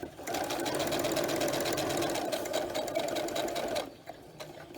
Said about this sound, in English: she has you go ahead and sew across the bottom